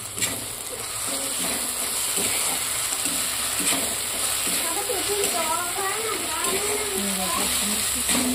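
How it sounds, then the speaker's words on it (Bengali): Ginger garlic paste sizzling and being stirred in a pan for a spicy ghugni, a steady frying hiss throughout with a voice talking over it. "আদা রসুন পেস্টটা দেওয়ার পর একটু ভালো করে নাড়িয়ে দেবো।"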